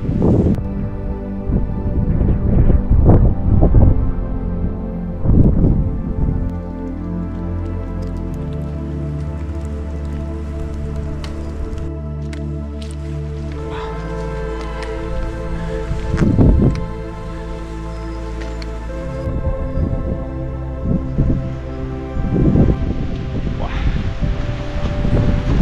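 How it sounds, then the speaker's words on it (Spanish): Sleet falling in a mountain range in winter as the wind strengthens, a constant rushing gusty wash with scattered pattering hits, close and steady throughout. "está empezando a caer agua nieve y un viento cada vez más fuerte"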